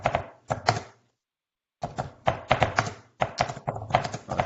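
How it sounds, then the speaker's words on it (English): Someone typing on a keyboard: bursts of quick, crisp key clatter broken by a short pause, close and alone with no voices. "I can hear someone typing"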